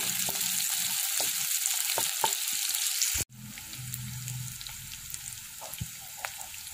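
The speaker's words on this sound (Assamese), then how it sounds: "তেলখিনি গৰম হোৱাতে মই প্ৰথমতে পিঁয়াজ আৰু জলকীয়াখিনি এনেদৰে ভাজি আছোঁ।" Sliced onions and green chilies fry in hot mustard oil in a wok with a steady, crackling sizzle and scattered pops. The sizzle cuts out briefly partway through, then resumes slightly softer.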